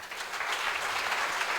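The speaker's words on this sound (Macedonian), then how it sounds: "Ве замолувам за огромен аплауз" Audience at a bridal fashion show breaking into steady, full applause, a dense wash of clapping that stays even and close throughout.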